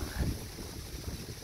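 Steady wind rumbling and buffeting against the microphone outdoors by a wavy lake, a constant low roar with gusty swells and no voices.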